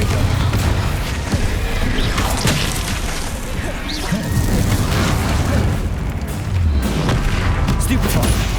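Confringo explosion spell in Hogwarts Legacy, loud booming blasts and crashes piled into a constant, heavy barrage of combat effects that runs throughout.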